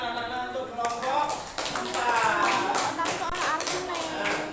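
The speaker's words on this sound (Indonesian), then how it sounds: "Tepuk tangan anak-anak untuk kelompok" A sixth-grade classroom of children clapping for a group after its presentation, a dense, continuous patter of many hands at close range, mixed with voices and chatter.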